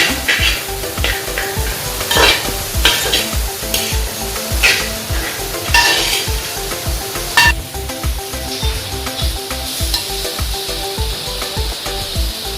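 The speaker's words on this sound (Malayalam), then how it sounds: "നന്നായി വഴറ്റണം" Vegetables for a homemade pickle sautéing and being stirred in a hot pan, a steady close sizzle with repeated scraping strokes of the spoon at an even rhythm, no talking.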